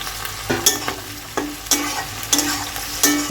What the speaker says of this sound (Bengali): পেঁয়াজ আর ক্যাপসিকাম এখন একসাথে ফ্রাই করব।